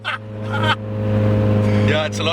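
A Honda Civic Type R with a K-series engine revs hard nearby, its rising engine note surging under brief bursts of excited talk.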